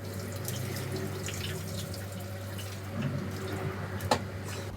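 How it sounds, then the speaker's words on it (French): About a litre of previously boiled water pours steadily over pondu in a saucepan with a running, splashing hiss, followed by a few drips and a small clink near the end. "Je verse l'eau sur le pondu."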